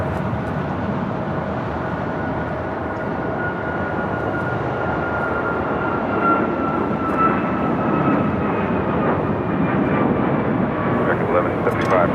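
A jet airliner takes off from runway 25 right at Los Angeles LAX airport, its broad engine roar holding steady and swelling slightly toward the end, with a faint tonal whine above and radio voices talking over it.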